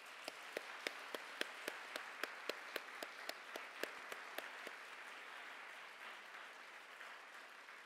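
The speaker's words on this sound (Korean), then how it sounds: "우리 뜨거운 박수로 감사의 말씀 전달해 드립니다" An audience at a seminary chapel service claps in a steady, even wash of applause, with one distinct clapper keeping a regular rhythmic beat through the first half before the applause continues more evenly.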